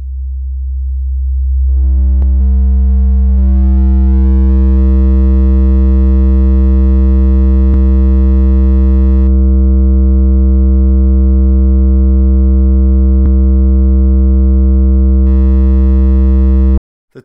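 A loud, steady buzzy tone rich in harmonics, a sine wave with digital clipping distortion, sounds alone, harsh and squared-off, holding unchanged for over fifteen seconds before cutting off.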